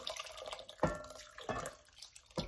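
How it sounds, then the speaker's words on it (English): Birria cooking juice poured back into a pot, several splashy pours in separate bursts with dripping liquid between them, close and fairly loud. "I'm going to pour the juice back on"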